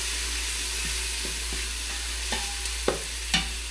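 Garlic sizzles steadily in a pot while a utensil stirs it, with soft scrapes and a few sharper clanks against the pot near the end, close and without talk.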